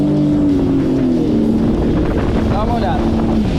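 A Sea-Doo Explorer Pro 170 jet ski accelerates in Touring mode on open water, its engine a loud steady roar whose tone shifts and climbs, with wind buffeting the microphone.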